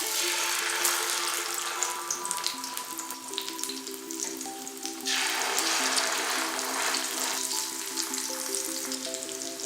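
Masala-coated mackerel sizzles steadily in coconut oil over a low flame, a bright, continuous frying crackle with a few faint clinks and tonal kitchen sounds, no talking.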